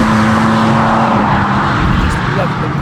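A 2025 BMW M4 Competition with 530 hp and a manual gearbox, in two-wheel drive, is driven hard through a bend, its engine note loud and steady under road noise, with talking over it.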